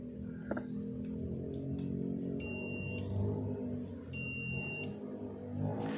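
A multimeter in continuity mode sounds steady high beeps while its probes test the plug terminals of a refrigerator compressor, two beeps each lasting under a second, over a low background hum with a few clicks.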